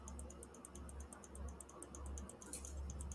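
Rapid, steady computer clicking rattles on for about three seconds, faint and close, a regular train of small sharp ticks with no voices.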